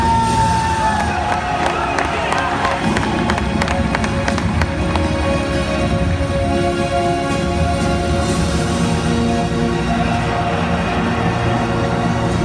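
Mets fans cheer and roar in a stadium during the retirement of Mike Piazza's number, a dense, continuous crowd wash that stays loud and even throughout.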